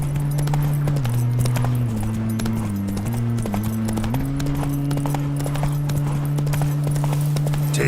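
Roach the horse from a video game gallops with steady, loud clip-clop hoofbeats throughout, over a continuous tonal music or ambience bed, with no talking.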